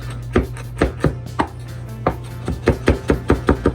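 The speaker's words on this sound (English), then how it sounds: "you want to chop your parsley. Right now I'm just doing some fine chop." Knife finely chopping parsley on a board, crisp close chops in uneven bursts, a few spaced strokes followed by a quicker run of about seven cuts, no voices.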